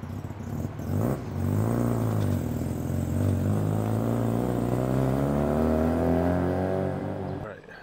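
A ported 13B rotary engine in a Mazda RX-3 idles close by on a Tokyo street, a deep, choppy, burbling drone with strong low harmonics that settles in after a brief start and runs steadily before cutting off.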